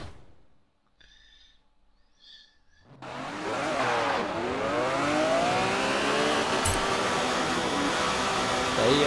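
A red Ferrari SUV in a Forza Horizon 4 street race replay: quiet at first, then a loud, steady engine roar that rises and holds with a rough, sustained tone to the end.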